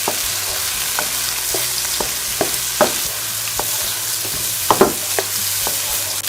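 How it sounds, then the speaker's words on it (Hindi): Anda magaz egg bhurji with chopped green chillies fries and is stirred in a pan: a steady close sizzle with repeated sharp scraping clicks of the spoon at an uneven rhythm, and no talk. "ऐसे भी हम इसमें अच्छे से मिक्स कर लेंगे।"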